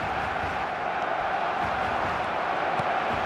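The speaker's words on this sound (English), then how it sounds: "the crowd level has gone up a notch or 10" Stadium crowd roar from an eFootball 2026 football match: a dense, steady wash of massed voices at a constant loud level, unbroken and with no distinct individual shouts standing out.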